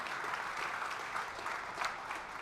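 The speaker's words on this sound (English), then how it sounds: "Make some big applause for our Western Conference." Audience applause at a season kickoff press conference at a football festival, a brief burst of steady clapping with a few faint crowd voices mixed in.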